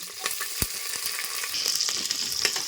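Onions sizzle in hot oil with cardamom, cloves and caraway seeds, a dense close crackle that holds steady throughout with small pops scattered through it and a few sharper spits.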